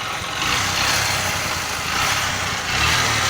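A small motor engine running on red oil idles loud and close just after starting, a steady unbroken rumble with no voices over it.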